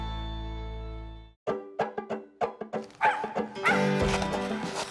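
An excited hunting dog barks during a squirrel hunt, a steady whine giving way to a rapid run of close, loud yips and barks that grow into dense, frantic barking.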